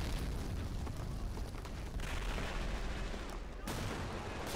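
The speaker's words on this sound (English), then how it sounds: "Oh, mortar is really, really annoying." Mortar fire in the World War II strategy game Men of War: Assault Squad 2, heard as a dense continuous roar of explosions and battle noise, loud and sustained, with one brief drop near the end.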